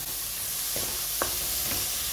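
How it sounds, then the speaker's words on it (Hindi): Tomatoes drop into a pan of hot dal tempering, giving a steady loud sizzle and hiss with a few soft stirring scrapes, no voices. "अब हम डालेंगे इसमें ये टमाटर,"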